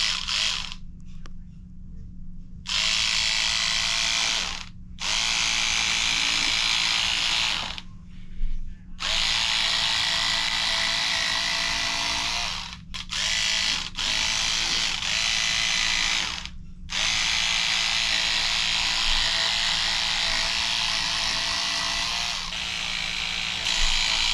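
A sewing machine joins fabric strips for handmade floral crossbody bags, running in several long bursts of rapid mechanical whirring, close and loud, separated by short silent pauses.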